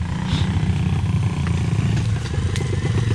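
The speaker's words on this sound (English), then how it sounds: "This is a racing bike right here." A racing motorcycle's engine rumbles loudly and steadily nearby for a few seconds, a dense low drone with faint clatter over it, heard outdoors on a street in the Philippines.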